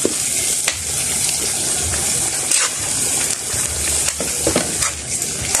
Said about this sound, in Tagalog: Mag-aday ko og tubig gamay ani para maluto yung ato ang atay.